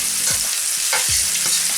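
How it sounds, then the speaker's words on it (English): Onion frying in hot oil and stirred, with a steady close hiss of sizzling broken by a few spoon scrapes, no voices. "Oil seems to be hot now and I'll start with putting the onion"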